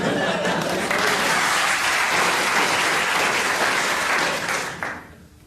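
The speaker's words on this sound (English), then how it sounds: "They clapped that, and I don't know why." A studio audience at a comedy panel show breaks into loud, sustained applause mixed with some chuckling, holding steady for several seconds before tapering off, while a voice can be heard faintly underneath.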